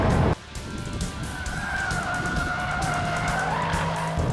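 Range Rover Sport SVR accelerating hard out of a corner on a circuit, engine roaring loud and close with rising pitch as it pulls, tyres squealing and skidding underneath throughout.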